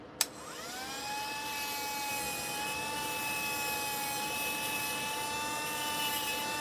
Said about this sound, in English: I'm just slowly spinning this on this diamond wheel